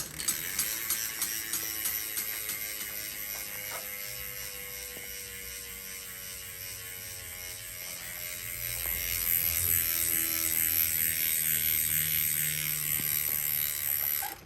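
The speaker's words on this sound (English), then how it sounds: "Stumpjumper Evo Pro with the DT Swiss 350 rear hub and a 36 tooth ratchet on these Revolve Traverse carbon wheels" A DT Swiss 350 rear freehub with a 36-tooth ratchet on Revolve Traverse carbon wheels of a 2022 Specialized Stumpjumper Evo Pro buzzes with rapid, continuous clicking while freewheeling, loud and close with steady mechanical texture.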